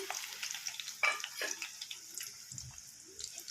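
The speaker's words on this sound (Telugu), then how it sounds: "ఈ ఉల్లిగడ్డలు అయితే కట్ చేసుకున్నవి దీంట్లో వేసేసుకోవాలి ఆయిల్లో" Chopped onions frying in hot oil in a kadai for a cabbage fry curry give a steady, fairly quiet sizzling hiss with scattered crackles and pops, with no talking.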